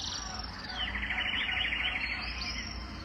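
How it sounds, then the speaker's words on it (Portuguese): Birds sing in a forest in the early morning, a bright continuous run of chirps and warbling trills close by, filling the short moment alone with a soft steady background hiss. "ouvindo o cantar dos pássaros"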